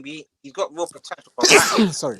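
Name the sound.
sneeze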